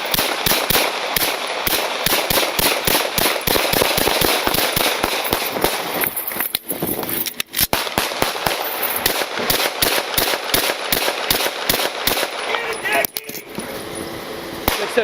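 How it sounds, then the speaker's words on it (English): Rapid gunfire exchanged between police troopers and a suspect near a wrecked vehicle, dozens of sharp loud shots in dense bursts filling the scene, with brief pauses and shouted voices in between. "opened fire on the officers, who returned fire"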